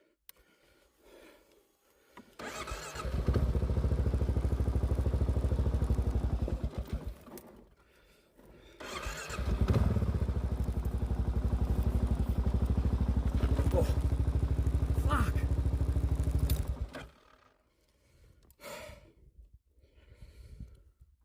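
An adventure motorcycle, a Yamaha Tenere 700 or Kawasaki KLR 650, rides off-road. Its engine rumbles loudly in two long stretches, with quiet breathing and pauses between them.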